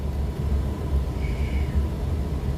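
An air conditioner runs indoors as a steady, even whoosh with a low rumble underneath, unchanging throughout and with no voices present.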